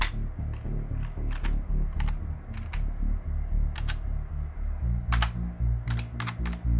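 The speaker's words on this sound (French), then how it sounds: "On tape." Quick bursts of close computer keyboard typing, with clusters of sharp key clacks separated by short pauses.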